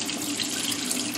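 Water runs steadily from a tap, flushing through the pot of a Laelia orchid, with a close, continuous splashing rush and no talk.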